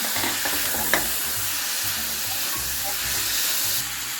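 Chopped tomatoes hit a hot pan with red chili powder and shahi jeera while cooking shahi malai kofta, giving a loud, steady sizzle and hiss with occasional stirring scrapes, no voices.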